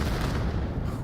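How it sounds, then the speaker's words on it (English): Grenade barrage explosions in the VR shooter VAIL form a dense, low, rumbling wash of overlapping booms, steady and moderately loud, with no clear gaps between blasts. "One look at that nade barrage."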